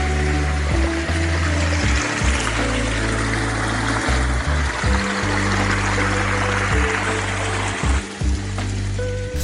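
Water weeps over a garden pond waterfall under a canopy of oaks and pines, a constant loud rushing and splashing mixed with a low steady mechanical hum.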